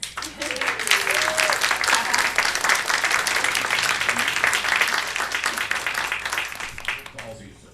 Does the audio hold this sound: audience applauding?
yes